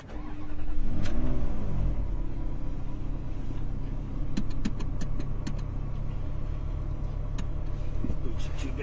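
A Ferrari 360 CS engine cranks and fires up near the start, then settles into a steady, loud idle with a deep rumble for the rest of the span, and small clicks sound over it.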